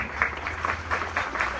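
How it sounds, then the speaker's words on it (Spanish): Audience applause at a Christmas Day performance of the Danza de los Negritos by young girls: a short burst of steady, mid-distance clapping with a few louder claps standing out, and no talk. "¡Y el aplauso para la madrina y el padríname!"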